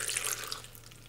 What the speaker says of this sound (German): Dann etwas Wasser dazu